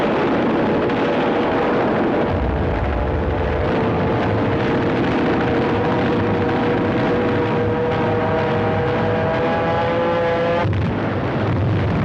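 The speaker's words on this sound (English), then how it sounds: "The U.S. planes swarmed all over the Japanese fleet." World War II American warplanes swarm over a Japanese fleet in a continuous loud roar of aircraft engines, with a sustained droning tone that climbs slowly and then cuts off abruptly near the end.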